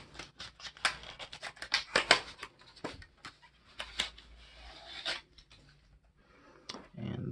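Plastic packaging for DDR4 RAM sticks is torn and crinkled open in a quick series of sharp rips and crackles, loud and close, with short pauses between bursts.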